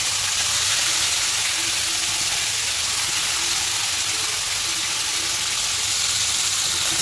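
Meat frying in a hot pan for a birthday meal, a dense, steady hiss of sizzling oil that stays loud and unbroken throughout, close by with no voices.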